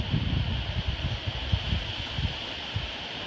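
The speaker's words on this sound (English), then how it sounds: "The wind has picked up a little bit." Hurricane Matthew's wind gusts across a highway overpass, a continuous low roaring rumble with uneven surges and buffeting against the microphone, with no one speaking.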